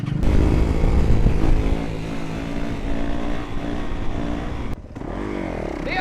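Dirt bike engine running close by at a lot, loud and steady with revving that rises and falls and a brief cut near the end.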